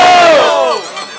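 Crowd at a rap battle (Batalha do Cepa) shouting and cheering in a loud, brief burst between rounds, the roar fading slightly toward the end.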